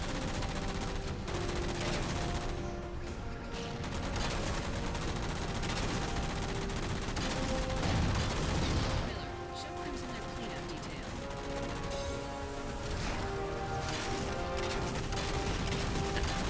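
Long bursts from a vehicle's main gun in Halo Spartan Ops on Legendary, heard as rapid sustained automatic fire that runs almost unbroken over a dense layer of game noise and explosions.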